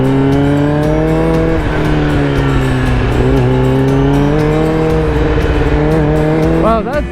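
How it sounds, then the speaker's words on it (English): A loud motorcycle engine holds a steady, droning note from close range, its pitch sagging and then climbing again, with wind rush throughout and a brief rev near the end. "I forgot how loud this bike is"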